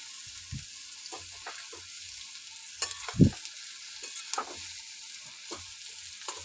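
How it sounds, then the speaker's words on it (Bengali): Potatoes fry in a pan with a soft, steady sizzle, broken by a few crackles and scraping stirs; no voices. "এবার আলুটা ভেজে নেব কড়কড় করে একটু আলুটা ভেজে নেব"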